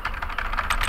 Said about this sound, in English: Or I can just type random stuff then.